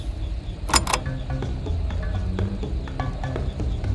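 The elevator mechanism in the video game Five Nights at Freddy's: Sister Location grinds and creaks steadily, with a sharp metallic clank near the start and scattered small rattles and ticks over a continuous low rumble.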